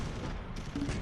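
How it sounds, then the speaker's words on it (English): Mortar rounds exploding in Close Combat III, a brief dense rumble of blasts and distant gunfire in a WWII battle for Berlin, rolling and noisy with no clear gaps. "I hear their mortar rounds"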